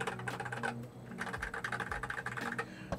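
Typing on a James Donkey S2 low profile keyboard, a rapid, close patter of light key clicks and clacks with small pauses between bursts, no voices.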